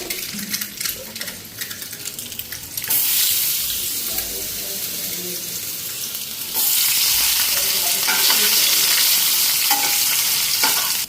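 Potatoes hitting a hot frying pan set off a loud hissing sizzle that swells into two stronger bursts, with scraping and stirring through it and some faint talk in the background.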